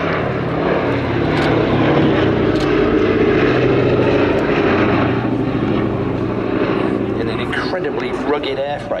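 A WWII bomber with four 1,700-horsepower Wright Cyclone engines drones loudly and steadily overhead at an air show, its engines roaring under someone talking.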